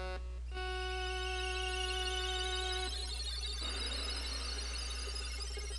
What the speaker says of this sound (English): Today's instrument is... Well, it's a conch shell, but I forget exactly what it's called. The conch horn.